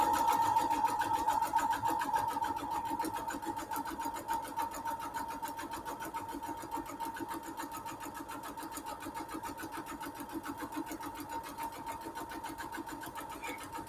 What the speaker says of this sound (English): let's sew this line right here.